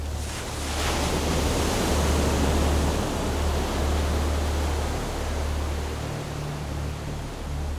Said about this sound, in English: watching the waves crash